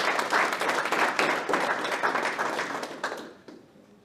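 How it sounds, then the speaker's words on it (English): Crowd applause at an evening idea pitch competition as the next presenter is introduced, dense clapping that holds strong then gradually thins and fades away toward the end. "Round of applause."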